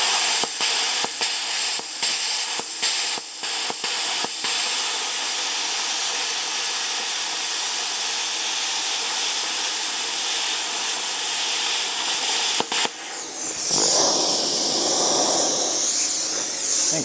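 A BestArc BTC500DP plasma cutter slicing 11 gauge steel on a grounded table gives a steady, loud broadband hiss with a few sharp crackles early on, then the tone shifts abruptly near the end into a harsher, brighter roar.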